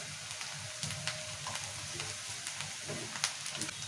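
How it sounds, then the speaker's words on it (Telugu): Onions frying in a pan for a tomato and fenugreek curry give off a steady, busy sizzle with light crackles and occasional sharper pops. Low stirring scrapes run underneath it, and nobody speaks. "ఉల్లిగడ్డ ఎర్రగా వేగాలి"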